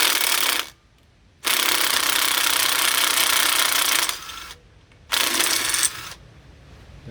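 A small impact driver working on the tin pulley bolts of a 2003 Mitsubishi L200 4D56 engine hammers in loud, rattling bursts, one long run and two shorter ones, separated by brief pauses.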